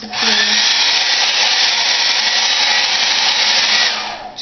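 Blow dryer running during a quick weave hairstyling session, a loud, steady airy whine held continuously for about four seconds before cutting off, close to the listener.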